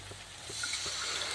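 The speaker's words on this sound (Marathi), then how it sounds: "आता आपण आपल्या आवडीनुसार पाणी टाकायचं आहे" Water poured into a simmering Khandeshi black-masala gravy for dubuk vada curry gives a steady, close rushing splash that holds at an even level, with no voices.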